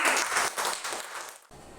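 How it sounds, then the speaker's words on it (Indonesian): Short burst of applause from a class group in a Catholic religious education lesson, steady clapping that fades out after about a second and a half. "tepuk tangan buat kita semua"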